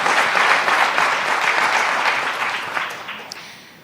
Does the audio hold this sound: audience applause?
yes